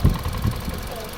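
Close-up, a 2017 Suzuki Ertiga engine idles with one ignition coil connector unplugged, giving a steady low throb with uneven pulsing beats.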